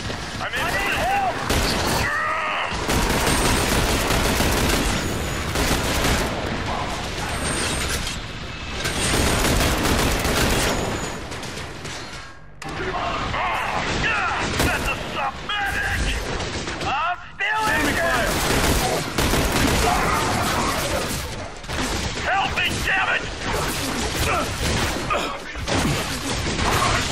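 Dense gunfire from The Bureau: XCOM Declassified, heavy bursts and rapid volleys filling most of the stretch, with brief lulls between loud clusters and shouted voices mixed among the shots.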